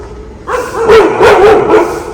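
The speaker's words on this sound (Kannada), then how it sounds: "ಇಲ್ಲೊಂದು ಬೊಗಳುತ್ತೈತೆ" A dog barks outdoors by a road, three or four quick, loud, close barks in a short burst, with no talk over them.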